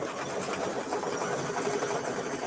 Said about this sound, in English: it's going to stitch out the foliage now